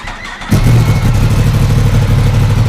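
A custom motorcycle engine catches after a quiet moment and settles into a loud, steady idle rumble close by.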